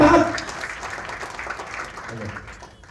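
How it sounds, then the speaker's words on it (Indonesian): A podcast audience claps, loud at first and then thinning out and fading, with a voice talking over it. "Tepuk tangan buat Prudential sekali lagi."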